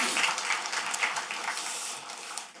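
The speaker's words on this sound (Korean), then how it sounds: "모든 분들에게 감사하는 마음으로 우리 큰 박수를 격려하도록 하겠습니다" A church congregation at a dawn revival service gives a short round of applause, a moderately loud wash of clapping that holds steady and then tapers slightly.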